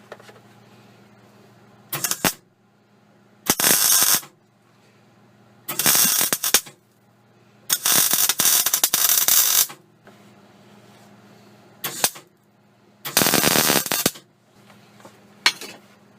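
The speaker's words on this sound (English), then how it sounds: "I'm going to carry on weld all that one up" A welder welds metal in short bursts, about seven bright crackling, sizzling runs of one to two seconds each separated by quiet pauses, close and loud with no talking.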